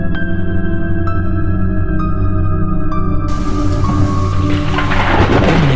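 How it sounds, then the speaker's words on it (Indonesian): Heavy rain pours steadily with deep rumbling thunder underneath, the downpour growing louder and more hissing toward the end, with no voices. "hujan turun deras seakan menenggelamkan semua suara"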